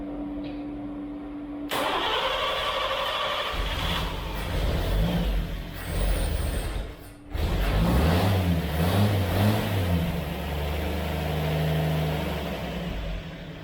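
Engine of a 1935 Studebaker rat rod, after sitting for over a year, cranks and fires up loudly and close by, then revs in repeated swells before settling into a rough idle.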